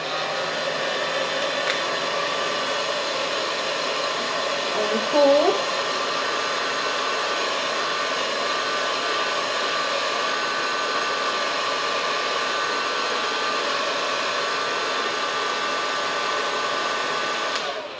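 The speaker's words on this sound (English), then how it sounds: "I have my blow dryer." A blow dryer runs steadily on a hair wig, a constant close whooshing drone that holds for the whole stretch, with a brief soft voice partway through.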